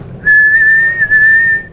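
A person whistles to imitate a sports referee's whistle: one shrill, steady, piercing tone with a brief dip midway, close and loud, lasting about a second and a half.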